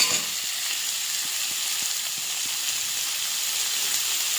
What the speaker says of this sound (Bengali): এরপর ঢাকা খুলে দিয়ে আবার সাঁতলে নিচ্ছি।